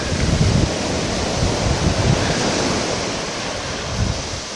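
Ocean waves surging up the shore at Saint-Paul, Réunion, a continuous loud broadband roar of surf with wind buffeting the microphone.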